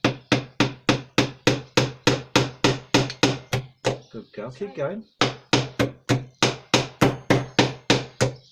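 A hammer drives nails into a wooden planter box in a steady run of sharp, close knocks, about two per second, pausing once briefly while someone speaks encouragement.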